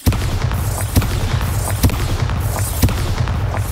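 Bombarda spell blasts in the video game Hogwarts Legacy, a series of sharp booming explosions repeating roughly every second over a rumbling background.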